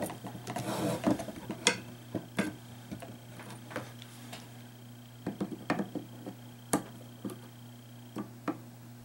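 Sharp metallic clicks of pliers nipping off chainmail rings while making a coif, scattered irregular snips close by over a steady low hum.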